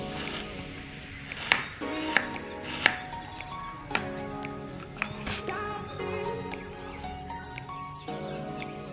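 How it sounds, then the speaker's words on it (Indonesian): Thin slices of gula Jawa palm sugar being cut with a knife. A few soft, sharp chopping clicks come about a second apart over a low, steady background hum, and no one speaks. "Gula Jawa kita iris tipis-tipis secukupnya saja."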